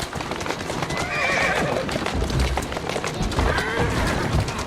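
Galloping hooves clip-clop steadily from a horse in the Assassin's Creed Syndicate video game, with two whinnies rising over the rhythm amid dense game ambience.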